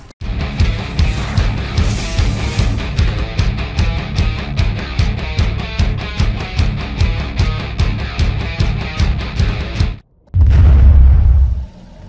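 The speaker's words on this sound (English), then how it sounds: "ends with an explosion transition into the actual video" Explosion transition effect in a cinematic PS4-style game intro: about ten seconds of loud, pulsing music stop abruptly, then a deep, loud boom bursts in and holds for over a second.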